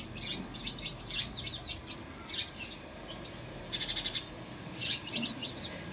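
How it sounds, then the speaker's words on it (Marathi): Sparrows chirping near a window, a close flurry of high, quick, repeated chirps and twitters that sometimes overlap, with a brief rapid trill, over a low background hum. "तुम्हाला चिमण्यांचा चिवचिवाटाचा आवाज येईल नुसता"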